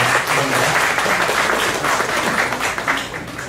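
A seminar audience in Korea claps for a speaker, a fairly loud, dense patter of applause that holds steady before easing slightly at the close, with faint voices mixed in.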